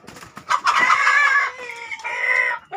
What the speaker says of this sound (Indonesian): ayam-ayam bagus